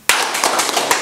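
Applause and clapping from an audience at a French-language conference show, a dense burst of hand claps starting abruptly and continuing loudly for about a second, with a few sharper claps standing out.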